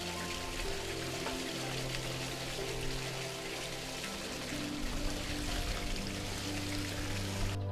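Water flowing across the scupper of an HPC Evolution 360 fire and water feature after winter, partly disrupted by debris, heard as a steady close splashing pour with a low hum, alone with no talk.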